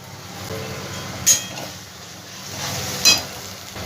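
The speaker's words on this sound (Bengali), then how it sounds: "এবার আমি এর মধ্যে দিয়ে দেবো পেঁয়াজ বাটাটা" Onion paste fries with spices in a pan, a steady low sizzle close by, broken twice by brief sharp clinks and stirring scrapes.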